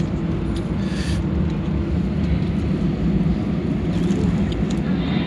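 An easyJet Airbus A319/320 rolls along the runway after landing, heard from inside the cabin as a loud, constant low rumble and roar with no talk.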